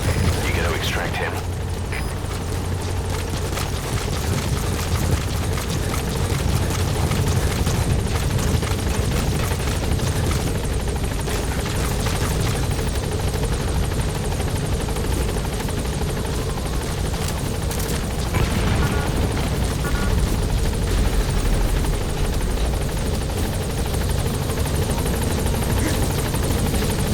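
B Quad, a helicopter in Metal Gear Solid V, gives a loud, continuous rotor drone with a steady thumping churn. It holds close for the whole stretch as voices talk over it at times.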